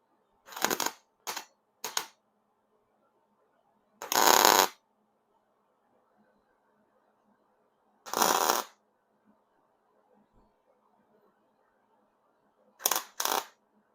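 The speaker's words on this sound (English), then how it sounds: "I'm going to weld the bottom side" Welding on the underside of a motorcycle frame built from scrap metal, heard as about six short, crackling bursts of varying length. Silent gaps separate the bursts, and it is close by with no talking.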